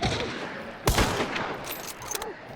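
A single loud, close gunshot from the Hunt: Showdown game cracks out and rings off, followed by a few fainter shots and brief speech.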